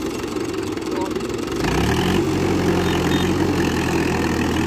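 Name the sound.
old tractor engine revving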